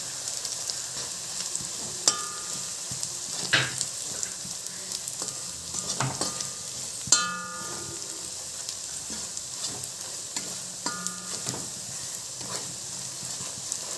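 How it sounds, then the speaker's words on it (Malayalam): Sliced onions sauté with coriander powder in a pan while cooking a spicy intestine (potti) curry. A steady, quiet sizzle is broken by occasional scraping and clinking stirs of a spatula against the pan. "നമുക്കിതിലേക്ക് മല്ലിപ്പൊടിയും കൂടി ഇട്ട് വഴറ്റാം."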